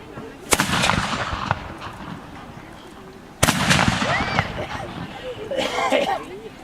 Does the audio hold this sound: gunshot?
yes